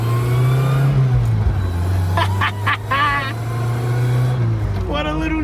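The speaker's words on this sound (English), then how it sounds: "It's got the pops and bangs going. Stumping fuel into the exhaust." A small car's engine drones and revs during a night drive, with a cluster of sharp exhaust pops and bangs, and people talking over the engine noise.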